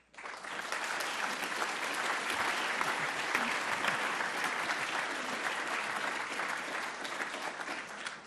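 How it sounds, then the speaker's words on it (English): Sustained applause from an event audience thanking the hosts, a dense, steady wash of many hands clapping that starts abruptly and holds at an even, fairly loud level throughout. "and then one last round of applause for Greg and Richard."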